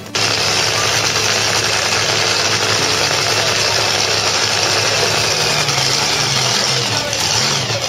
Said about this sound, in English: That's obviously a drag race engine in that boat.